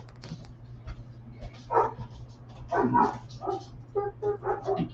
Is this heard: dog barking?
yes